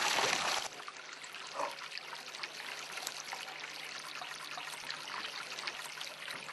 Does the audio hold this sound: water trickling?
yes